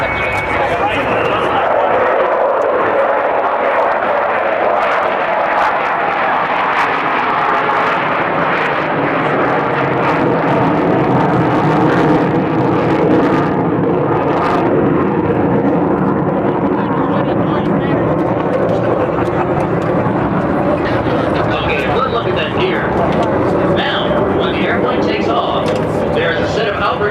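U-2 powered glider jet flying at the Reno air show, a loud continuous jet roar that rises and shifts in pitch as it passes, with an announcer talking over it.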